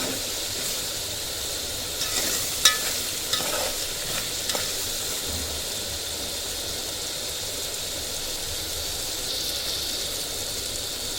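Chicken curry with tomatoes sizzles steadily in a pan while a spoon stirs it, with a few scraping clinks early on over the constant frying hiss, heard close and alone.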